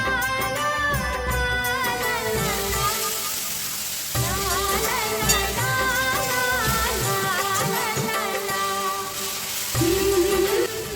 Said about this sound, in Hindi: उसके बाद यहाँ पे मैं डाल दी हूँ मसाले और मसाला हमारा यहाँ पे भुन रहा है